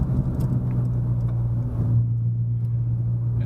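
A Renault Sandero RS engine pulls uphill on a mountain road, a steady low drone from inside the car that rises a little and then settles, with no talk over it.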